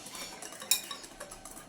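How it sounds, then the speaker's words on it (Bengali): A spoon stirs cocoa powder into dry semolina in a bowl, giving soft scraping and light clinks with one sharper tap of metal against the bowl, close and fairly quiet. "ভালো করে মিশিয়ে নেব সুজির সঙ্গে কোকো পাউডার"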